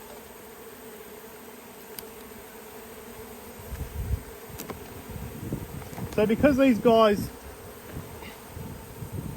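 Honey bees from a nucleus hive buzz steadily in a constant droning hum, with someone speaking briefly over the swarm partway through.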